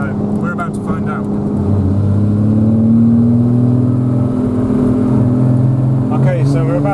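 Triumph GT6 on a motorway accelerating in third gear with overdrive engaged after an overdrive fault repair, a loud engine note climbing steadily in pitch, with someone talking briefly at the start and end.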